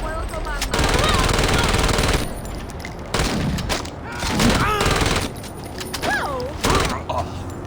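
A 9mm Mac 10 submachine gun fires in the video game Saints Row, with loud rapid bursts of automatic gunfire, and a voice speaks between and over the shots.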